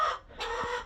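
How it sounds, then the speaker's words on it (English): Chickens clucking close by, a couple of bursts of busy, overlapping clucks with a brief dip between them. "Chickens are loud this morning."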